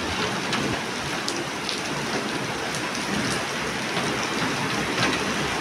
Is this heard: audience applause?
no